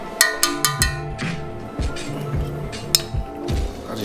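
A spoon clinks and taps against a pot while scooping tomato paste into an eggplant and pork stew, with a quick run of sharp metallic knocks at first and scattered softer scrapes and taps after.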